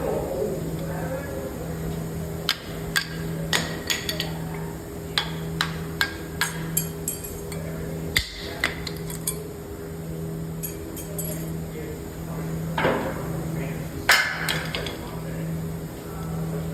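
Metal clicks and scrapes from brake pads being worked out of a rusty front brake caliper bracket on a 2007-2017 Jeep Compass or Patriot, a series of sharp taps close by over a steady low hum.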